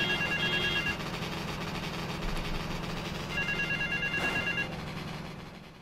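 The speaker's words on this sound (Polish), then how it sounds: "wcześniej dzwoniła ta pierwsza budka telefoniczna, ale teraz dzwoni ta" A telephone in a phone booth rings in GTA Vice City, two bursts of electronic ring separated by a pause, over a steady low hum of game ambience and traffic.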